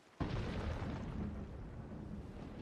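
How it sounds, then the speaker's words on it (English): A volcano erupts in Sea of Thieves with a sudden loud boom, then a heavy, sustained rumbling roar that carries on steadily without fading. "that volcano just exploded"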